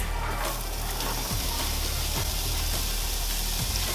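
Chopped onions sizzle and fry in leftover butter in a pan, a loud, steady crackling hiss lasting throughout, with a few soft stirring scrapes and no talk.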